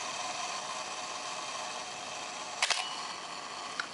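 A Nikkormat FTN camera's self-timer fires the shutter and the mirror snaps back down: a sharp double mechanical click at about 2.6 s over steady hiss, followed by a faint lighter tick near the end.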